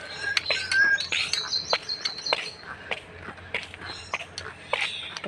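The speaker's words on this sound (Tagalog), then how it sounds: "Naririnig nyo yan, ibon." Birds chirp near a large tree in the morning, giving bright, quick calls and tweets in scattered bursts, moderately close, with a voice talking in the background.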